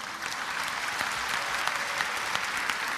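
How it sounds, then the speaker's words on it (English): An audience clapping during a religious lecture, steady continuous applause at moderate loudness with a few sharper individual claps standing out. "you're clapping"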